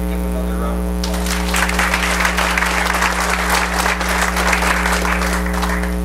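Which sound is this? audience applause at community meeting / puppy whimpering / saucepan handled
audience applause at community meeting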